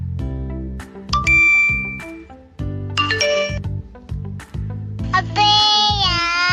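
A series of phone notification tones plays in quick succession, bright chimes, dings and short melodic jingles, each one loud and clear with no talk over them.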